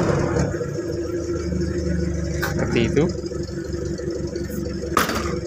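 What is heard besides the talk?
1982 Suzuki Jimny engine running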